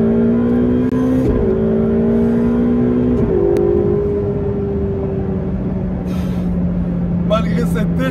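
A Ferrari 488 Pista turbo V8 revs high and pulls hard, its tone climbing through gear changes, loud and close, with a brief hiss near the end.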